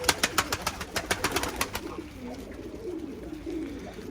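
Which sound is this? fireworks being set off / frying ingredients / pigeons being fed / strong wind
pigeons being fed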